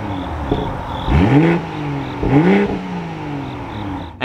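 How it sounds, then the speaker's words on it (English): A BMW M240i xDrive engine idles with a whirring hum and then is revved twice in quick succession, each rev rising sharply in pitch and falling back, loud and close. "let's fire this back up and hear what it sounds like"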